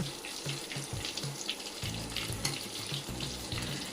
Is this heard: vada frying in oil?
yes